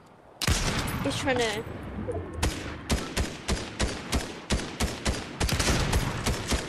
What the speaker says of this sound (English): Oh, I can hear gunfire somewhere.